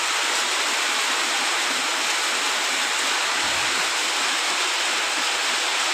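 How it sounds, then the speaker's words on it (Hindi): Heavy rain pours down steadily in the village of Kalipur Kala, a dense, continuous broadband rush with water streaming off roof spouts, close and loud throughout with no voices. "जोरदार तरीके बरसात हो रही है एकदम"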